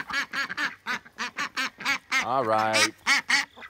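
A female duck close by quacks repeatedly in a steady rhythm of loud, nasal calls, one longer drawn-out call in the middle, while a person briefly speaks over it.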